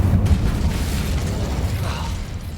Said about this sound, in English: There's an explosive barrel over here?